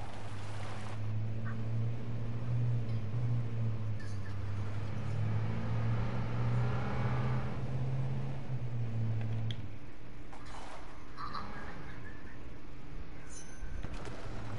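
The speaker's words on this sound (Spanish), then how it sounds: "Ya escuché un carro por aquí" A car engine in a video game hums steadily nearby, a low droning motor that rises and shifts in pitch as it moves, holding at a moderate level throughout with faint clicks and game sounds over it.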